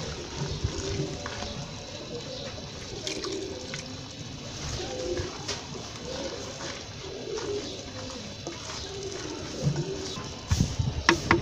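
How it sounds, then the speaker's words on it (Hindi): Half a cup of water poured into a pot of green chholiya with chicken, a soft splashing and trickling under steady background noise, with pigeons cooing nearby and a louder clatter near the end. "½ प्याली पानी डाल देंगे ताकि ये छोलिया जो है जो गल जाए"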